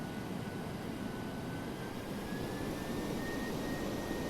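DC-8-73F jet engines in the Flight Simulator X game, taxiing down a runway: a constant broad jet whine and roar with a faint high tone slowly rising, steady and unbroken.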